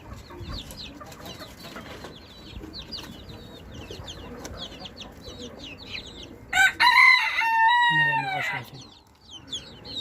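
Chickens cluck in a steady background chorus in a rooftop coop, then a nearby rooster lets out a loud crow, followed by more clucking.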